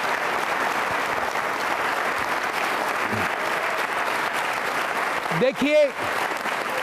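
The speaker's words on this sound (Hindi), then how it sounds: "तो एक बार फिर तालियां बजाइए अपने लिए जोरदार तरीके से" Audience applause for NCC cadets at an Independence Day quiz show: steady, dense clapping fills the hall throughout, with a brief spoken word near the end.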